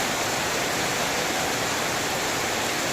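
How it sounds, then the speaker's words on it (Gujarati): Heavy rain pours down in a steady, dense roar that stays loud and unbroken throughout, with no voices or other sounds standing out. "જોઈ લેજો, હું તમને આ વરસાદ બતાડું."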